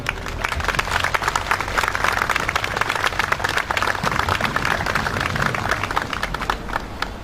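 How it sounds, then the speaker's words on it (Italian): Audience at a Bersaglieri regional gathering ceremony in Conegliano applauds to welcome a general, dense steady clapping from a large crowd sustained throughout without letting up. "Accogliamo con un bel applauso il Presidente dell'Associazione Nazionale Bersaglieri, il Generale Ottavio Renzi"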